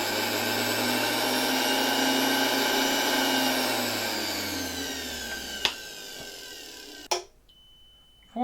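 A restored 1970 Zelmer 01 vacuum cleaner whirs loudly, then winds down as it is switched off, followed by a couple of sharp clicks and near silence.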